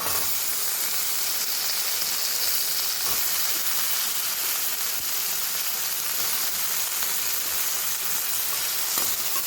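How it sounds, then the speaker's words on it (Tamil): Eggplant and potato pieces frying in oil for a spicy kuzhambu, a loud continuous sizzle and hiss that stays dense and even throughout, with faint occasional stirring clicks and no talking. "இப்போ நான் கட் பண்ணி வச்ச கத்திரிக்காயும் உருளைக்கிழங்கும் சேர்த்துக்கிறேன்"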